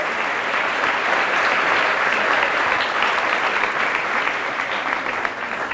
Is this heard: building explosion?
no